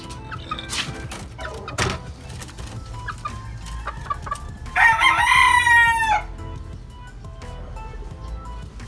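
Pullets in a coop cluck and squawk nearby, with one loud drawn-out crow rising in the middle and scattered short calls around it.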